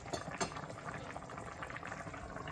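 Mutton bhuna (lamb curry) simmers in a fully covered pot, giving a steady, close bubbling and gentle sizzle that keeps an even level throughout with no talking.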